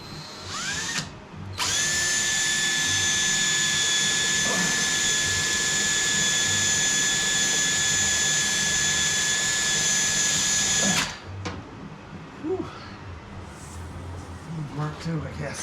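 A power drill whines at high speed for about nine seconds, driving into the steel underbody of a Toyota Prius, with short bursts before and after and people talking around it.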